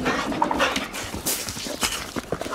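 Excited dog panting and scrabbling about, with quick breathy bursts and paw and claw clatter close by, busy and irregular throughout.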